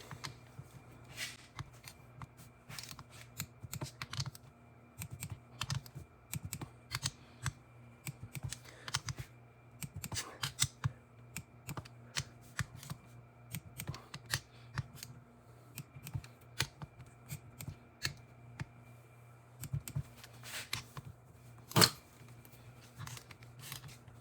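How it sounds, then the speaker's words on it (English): Repeated sharp clicks from a torque wrench tightening camshaft bearing caps on a Sambar cylinder head to 86 inch-pounds, scattered in irregular bursts over a low steady hum, close and fairly quiet. "I was just torquing down these caps"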